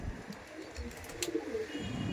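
Local Kolkata Madrasi pigeons give soft, fairly faint cooing murmurs in a quiet setting, with a few brief clicks and no speech.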